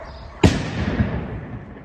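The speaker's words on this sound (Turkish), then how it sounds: "Kontrolü patlama." A bomb squad's controlled detonation of a suspicious package in Kayseri: one sharp blast cracks out, then a rumbling tail and a smaller thump follow and fade. No talking is heard.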